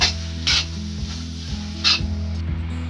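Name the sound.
capsicum frying with spices in a pan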